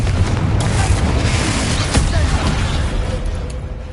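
Confringo fire spell blasts in Hogwarts Legacy, deep booming explosions with a sharp crack near the two-second mark over a loud rumbling bed of combat noise, fading slightly at the end.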